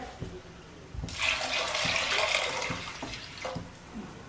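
Water gushes steadily into a cooking pot for a few seconds after a couple of light clinks, a bright splashing pour that stops abruptly, with a few knocks around it.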